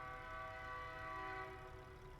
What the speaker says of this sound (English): And hey, AK, there's your train right there.